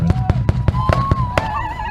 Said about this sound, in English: The song of the American Indian Movement mingled with eruptions of celebratory gunfire